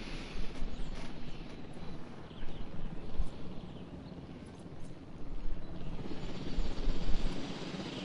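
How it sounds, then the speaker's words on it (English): Helicopter rotor from the Jurassic World Evolution video game, a steady broadband thrum with swelling and fading intensity throughout, mid-distance and moderately loud, with no talking. "You can actually take control of the helicopter and shoot the darts at the dinos."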